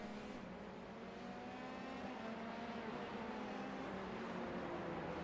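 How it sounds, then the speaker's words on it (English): Formula 3 race car from a racing video game, set at the Austrian Grand Prix, spinning its tires out of the pits: a steady, loud engine drone with continuous tire noise, no talk over it. "Dom smoking the tires to get out on track"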